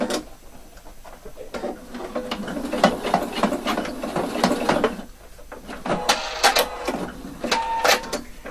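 A sewing machine stitches bias band at a sleeve slit, making a close mechanical whir and clatter in several short bursts separated by brief pauses, with no voices.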